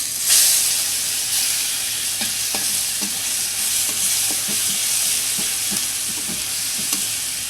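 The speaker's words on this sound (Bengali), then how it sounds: "মাছ ভেজে তেলে দিয়ে দিব পাঁচফোড়ন দুটা শুকনো লঙ্কা আর এক টুকরো দারচিনি রসুন পেস্ট" Panch phoron, two dried red chillies, a piece of cinnamon and garlic paste fry in hot oil with a steady loud sizzle, broken by repeated scrapes and knocks of a stirring spoon, close up and without talk.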